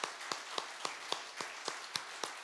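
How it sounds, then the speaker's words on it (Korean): Clapping welcomes guests at a large church general assembly: evenly spaced, rhythmic claps about four per second, sharp and moderately close over a quiet room. "여러분 한번 큰 박수로 환영해 주시면 감사하겠습니다."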